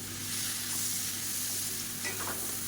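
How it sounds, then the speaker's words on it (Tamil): Paneer pieces frying in hot ghee with spice powder, a steady close sizzle with a faint stirring scrape near the end, no talk. "இந்த பன்னீரை வந்து நம்ம வறுத்துட்டுக்கலாம்"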